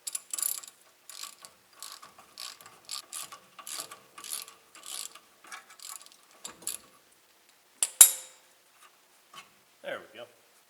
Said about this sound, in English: So now I'm going to go ahead and remove the nut the rest of the way.